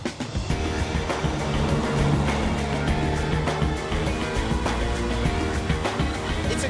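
A small Reliant Kitten car drives along with a busy mechanical engine hum and rattling road noise, moderately loud and continuous, with no talking.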